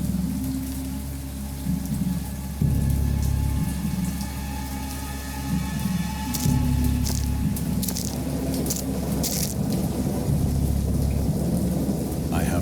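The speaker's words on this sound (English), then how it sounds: "I know that I heard peals of thunder and other tones which nature utters only in" Heavy rain falls steadily in a thunderstorm in the horror game Dagon, with rolling thunder surging in repeated waves and sharper crackles near the end, continuous and loud with no voices.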